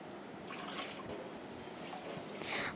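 Clay cooking pots are scrubbed by hand in plain water without soap, giving a steady wet swishing and trickling with scattered drips and splashes, close by and moderately quiet, with no voices.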